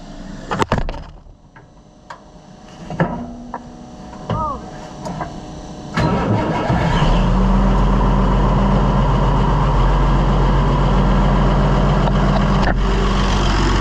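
An Allis Chalmers 200 tractor engine cranks over a few times, catches around six seconds in and settles into a loud, steady low idle that runs on alone.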